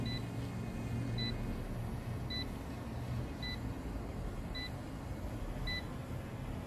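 A Ruko F11 Mini folding GPS drone hovering outdoors gives short high beeps, often in pairs, repeating at an even pace of about one per second over a steady, noisy rotor and wind hum.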